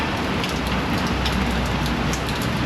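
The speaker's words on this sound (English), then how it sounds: "It's raining again." Steady rain falls outdoors, a dense, even patter and hiss of drops on surfaces, close and continuous with no voices.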